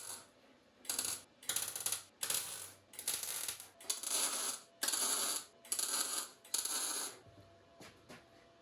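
Steel sheet being tack welded to a workshop cart frame, about ten sharp bursts of crackling arc, each roughly half a second long, separated by short quiet gaps, close and fairly loud.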